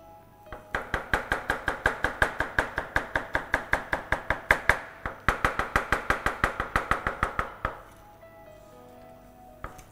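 Garlic being crushed for a sunflower-oil marinade, heard as a steady, rapid series of sharp, close knocks that pause briefly midway and stop near the end, with no talking.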